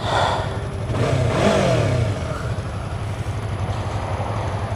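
A Yamaha R3 motorcycle engine on a test ride revs up and settles into a steady running drone, close and fairly loud, with wind noise and no talking.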